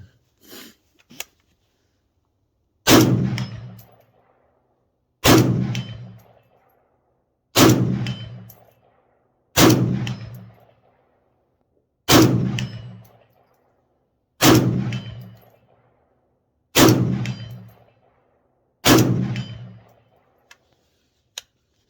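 Eight sharp, loud rifle shots from a PTR 32 KFR ring out at a range, spaced about two to three seconds apart, each followed by a metallic clang from a steel target and a short decaying tail.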